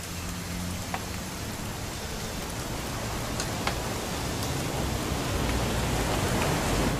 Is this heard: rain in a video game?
yes